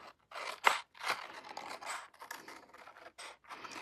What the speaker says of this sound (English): And then I'll just trim away the outer edge.